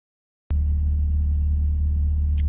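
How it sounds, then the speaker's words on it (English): A truck engine catches abruptly after silence and settles into a loud, steady low rumbling idle, close and continuous, with a faint high jingle near the end. "Truck started."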